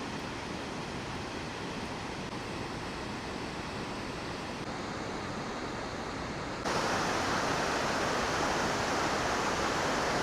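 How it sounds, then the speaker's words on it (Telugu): Large forest waterfall pouring steadily, a dense broadband roar that holds constant throughout and grows noticeably louder and brighter partway through, with no voices present. "అది కూడా ఇంత పెద్ద వాటర్ ఫాల్ని."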